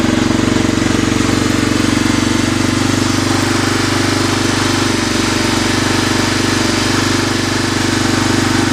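A 1985 Honda 250SX engine runs steadily after a cold start, a loud, continuous close-up mechanical drone with a fast, even putter that holds level throughout, no voices.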